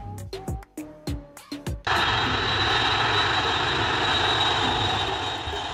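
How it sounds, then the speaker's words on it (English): Engine roar of a Boeing E-3 Sentry AWACS military aircraft starts suddenly after a few short thumps and holds as a loud, steady, broadband drone with a high whine, fading slightly at the end. "Boeing E-3 Sentry AWACS."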